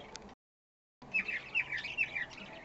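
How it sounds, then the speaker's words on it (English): Parakeets chirp and tweet in a lively cluster of bright, rapid calls, close and clear, after a short gap of silence. "Oh look, birdies."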